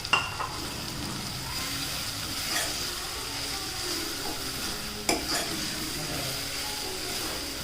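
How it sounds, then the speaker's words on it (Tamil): Mint leaves are stirred and sautéed in a pot for a one-pot paneer biryani, with a soft continuous sizzle and occasional scrapes of a spoon against the pot. "இதையும் சேர்த்து நல்லா வதக்கிக்கலாம்"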